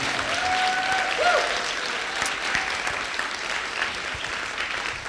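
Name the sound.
audience applause for the host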